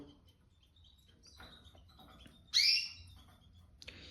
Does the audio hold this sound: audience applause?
no